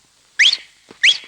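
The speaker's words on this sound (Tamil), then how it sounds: "என்ன இனிமையான விசில்." A person whistles two short, bright upward-sliding notes about half a second apart, with faint rustle between them and no talking.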